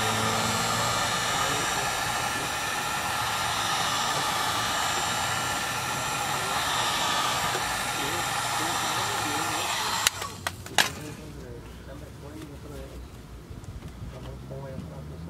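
A heat gun blows steadily on a tinted reverse light of an EcoBoost Mustang, a loud continuous airy roar that cuts off abruptly partway through, followed by a few clicks and quieter room noise.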